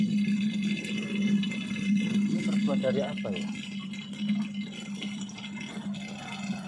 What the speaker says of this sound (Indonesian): Ini kok ada suaranya seperti air mengalir di dalam sini.